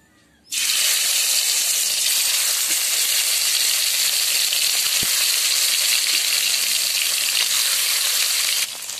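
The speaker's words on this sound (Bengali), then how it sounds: "এবারে মাছগুলোকে লাল লাল করে একদম ভেজে নেব।" Native snakehead fish pieces dropped into hot oil in a kadai, bursting into a loud, steady sizzle that holds for several seconds and eases slightly at the end.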